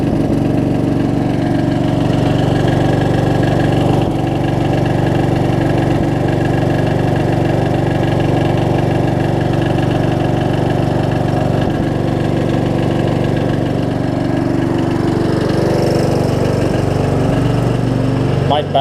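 A Craftsman riding lawn mower engine running steadily after a carburetor adjustment, a loud, continuous close-up drone at an even idle with slight wavering.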